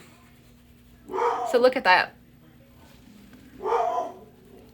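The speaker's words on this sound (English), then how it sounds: "It's the neighbors here and the dogs still." A neighbour's dog barks in a couple of short bursts, the second quieter, mixed with someone talking nearby over a low background hum.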